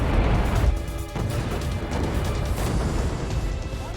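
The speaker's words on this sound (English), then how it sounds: "This ship just exploded!" Loud crashing blast from the video game Lost Judgment as a ship explodes, a heavy burst at the start giving way to a sustained rumbling, crackling roar that fills the whole clip.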